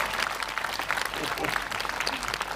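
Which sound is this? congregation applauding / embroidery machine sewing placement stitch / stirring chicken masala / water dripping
congregation applauding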